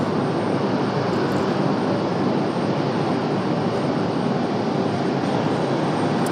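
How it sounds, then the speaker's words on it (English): An Alaska Airlines jet comes in to land at Raleigh-Durham International in the evening, a dense, even engine roar at constant loudness throughout, with no talk over it. "Alaska Airlines sliding down the hill here as well"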